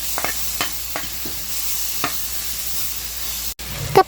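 Pork longganisa sizzles in a hot pan with a steady close hiss, broken by a few soft stirring scrapes and a brief clatter near the end.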